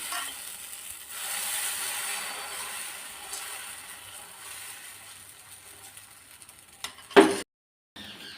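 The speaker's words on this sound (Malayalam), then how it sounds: "തിരിച്ചിട്ട് കൊടുക്കുകയാണ് ദോശ" A wheat flour dosa sizzles softly on a hot pan after being flipped, a steady low frying hiss, with a brief louder scrape or clatter near the end before sudden silence.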